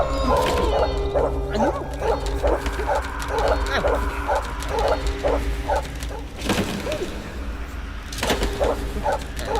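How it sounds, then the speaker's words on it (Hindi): A dog barks at night in a comedy scene from the film Kanchana Returns, giving a long run of evenly spaced, fairly loud barks over a constant background hum, with a short pause before the barking resumes. "कौन है कुत्ता भौंक रहा है?"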